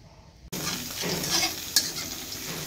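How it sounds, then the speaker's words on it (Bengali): Potatoes and green beans (borboti) fry in a pan, starting abruptly with a loud, steady sizzle close by, a metal utensil scraping and clinking as they are stirred, with no talking. "এখানে হচ্ছে আলু বরবটি ভাজা,"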